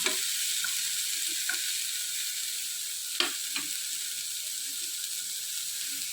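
Ivy gourd fries in a pan with a steady, loud hiss of sizzling oil, broken by a few soft scrapes of stirring, with no talking.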